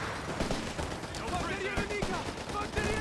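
Grenade blasts and rapid gunfire from a Company of Heroes 3 match between German Afrika Korps and US forces, a dense, continuous barrage of shots and bursts with game voices and sound effects layered over it.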